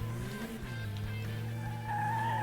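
A front-wheel-drive car in the Dreamcast racing game Metropolis Street Racer hums along under steady engine drone, with tire squeal rising in pitch as it understeers into a turn.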